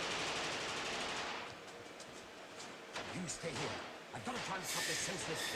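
Gunfire from a film gunfight scene, rapid bursts of shots and impacts sounding under overlapping speech and score, with dense clusters of sharp cracks building toward the end.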